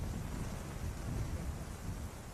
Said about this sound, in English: monsoonal rain begins to descend